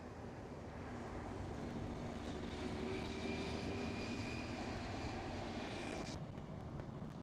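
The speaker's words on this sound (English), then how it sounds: "Yes, indeed, A330 Delta Airlines" A Delta Air Lines Airbus A330 is heard from a distance at Amsterdam Schiphol, a faint, steady engine rumble with a thin whining tone riding over it.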